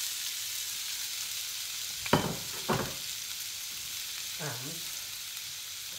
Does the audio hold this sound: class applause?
no